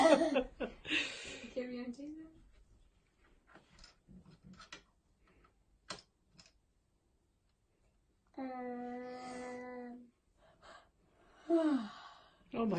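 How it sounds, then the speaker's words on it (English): A big yawn, a long drawn-out voiced tone lasting about a second and a half, preceded by scattered breathy vocal sounds and quiet clicks. "Oh my goodness, that's a big yawn."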